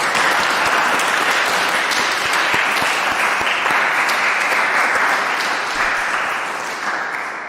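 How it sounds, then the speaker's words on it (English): A roomful of people at a London choral singing workshop applauds with loud, dense clapping that holds steady for several seconds before easing off at the end. "Can all of you guys give a big round of applause to everyone at home?"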